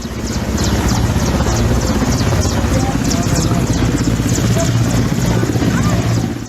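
A helicopter works over a breached flood embankment in Nysa, its rotor giving a loud, steady, rapid thudding throughout, with a voice talking over it.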